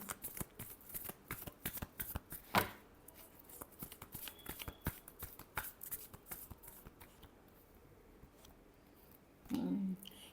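Tarot cards riffle and slap in a quick, close run of shuffling, then pause briefly before a final short burst of shuffling near the end.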